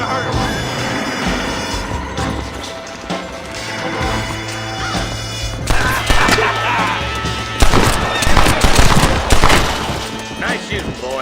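Gunfire in the video game Red Dead Redemption, a series of sharp cracks and impacts, loudest in a dense cluster toward the end, mixed with a steady low drone and game background noise.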